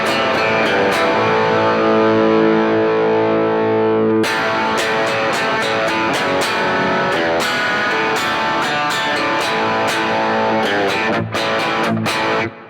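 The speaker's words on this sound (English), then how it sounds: "So that's the amp distortion" An electric guitar runs through the amp distortion of a NUX Cerberus multi-effects pedal, playing loud sustained distorted chords followed by a run of sharp, choppy strummed hits.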